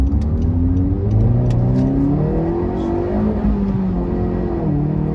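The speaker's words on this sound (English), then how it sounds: "first gear sport mode. Let's go ahead and take off." A Honda CR-Z HPD Edition pulls away from first gear in sport mode, its engine revving up loud and close in rising sweeps across a few shifts, with no talking over it.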